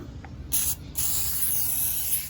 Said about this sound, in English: Oh, you just spray it all around, that's it?